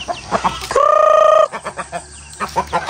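Chickens cluck nearby on a farm with ducks, short choppy calls, and one drawn-out crowing call rises loudly in the middle.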